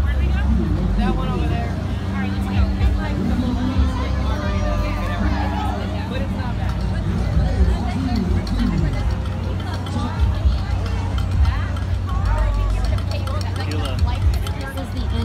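A crowd murmurs in steady outdoor babble at the Orlando Taco Festival outside Drive Shack, with voices mingling at moderate loudness throughout.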